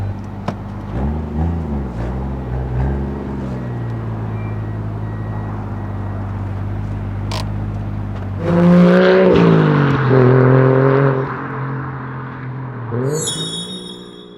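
A Toyota JZX100 Chaser Tourer V engine idles and pulls as the car reverses, a steady low rumble swelling into louder revs near the end, with a brief high electronic chirp at the close.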